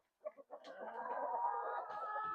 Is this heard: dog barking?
no